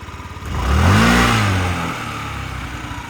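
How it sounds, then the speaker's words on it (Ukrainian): A small Yamaha Jog SA55J 2017 fuel-injected scooter engine runs close by, rising briefly in a smooth rev before settling back to a soft, even idle. "Він максимально тихенько працює, от дуже м'якенька робота двигуна."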